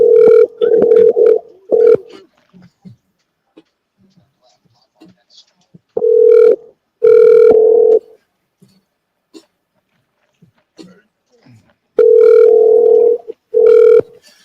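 A telephone ringback tone sounds in three bursts of paired tones, spaced about six seconds apart and loud and clear, with faint speech in the gaps between rings.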